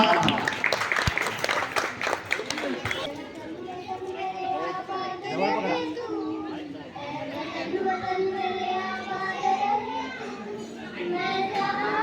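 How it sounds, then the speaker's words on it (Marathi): Applause and cheering at a housing society's Independence Day celebration: a burst of clapping for the first few seconds, then crowd chatter and children's voices carrying on under a loud voice calling to the gathering. "ओम साहेबांसाठी जोरदार टाळ्या एकदा"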